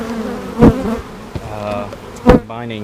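Honeybee colony buzzing close by, a steady insect drone with two louder bursts as bees pass near, no talking.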